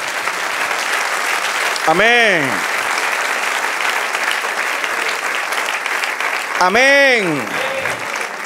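A church congregation claps loudly and continuously throughout, while a voice calls out twice over the steady applause.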